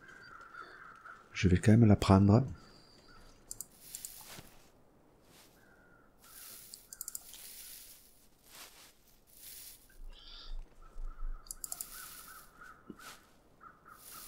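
A single loud crow caw in The Long Dark, followed by faint footsteps and quiet wilderness ambience while someone speaks briefly.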